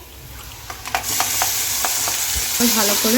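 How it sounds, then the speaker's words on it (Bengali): A paste of green chili, ginger and garlic hitting a hot pan and being stirred, giving a loud, continuous sizzle with scattered spatula knocks and scrapes. A brief voice is heard near the end. "এই যে বেটে রেখেছি কাঁচা লঙ্কা আদা আর রসুন একসাথে এটা দিয়ে দেবো"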